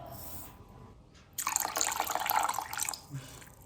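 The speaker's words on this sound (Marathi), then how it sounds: "आता आपण ह्या सर्व डाळी 3 वेळा चांगलं स्वच्छ धुवून घेऊया" Mixed lentils and rice being rinsed in a bowl of water: soft sloshing and splashing rises for about a second and a half after a quiet start, close and moderately loud, then settles back to faint dripping.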